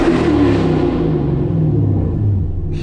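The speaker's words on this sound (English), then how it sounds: "Yo, this car is so goddamn loud, bro." A manual Chevrolet Camaro SS 1LE engine roars loudly from inside the car while driving, a deep, heavy rumble with shifting low tones that rise and fall across a few seconds, dominating everything without talk.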